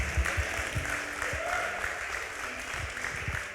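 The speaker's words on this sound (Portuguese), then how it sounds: "Forte esse aplauso ao Rei da Glória." A church congregation claps during a sermon, a dense sustained applause at a fairly even level, with faint low thumps and a brief voice underneath.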